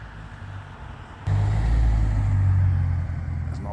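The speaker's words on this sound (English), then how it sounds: "There's an Aussie muscle car drives by. V8." Australian V8 muscle car, a Holden Commodore, passing by in Smithton, Tasmania: a deep engine rumble swells suddenly, stays loud and close for a couple of seconds, then eases off as it moves away.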